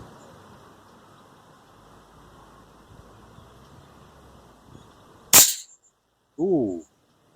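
An Air Arms TX200 HC air rifle fired outdoors, one sharp close crack over light wind noise, followed by a brief short voiced exclamation.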